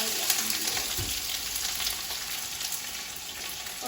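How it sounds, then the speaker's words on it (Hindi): Onions added to hot oil for chicken noodles fry with a continuous close, bright sizzle and crackle throughout, with a few low thumps of stirring early on. "ऑयल में हमने प्याज शामिल कर देना है"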